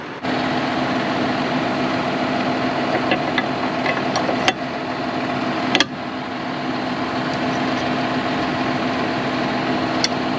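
A tractor engine runs steadily with a power harrow attached, a constant heavy low drone heard close up for about ten seconds. A few faint clicks and knocks sit over it, and no one speaks.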